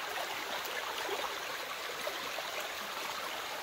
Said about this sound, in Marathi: झरा किती मस्त थंडगार पाणी नितळ असं।